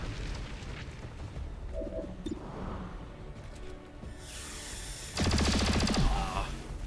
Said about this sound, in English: Maybe we can detonate them.